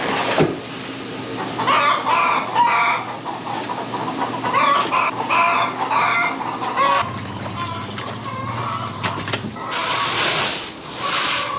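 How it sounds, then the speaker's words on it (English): Hens clucking inside a farm chicken coop with nest boxes, several birds making close, overlapping clucks and murmurs on a cloudy day, with steady background noise and no talking. "The new batch of chickens has been laying very, very well."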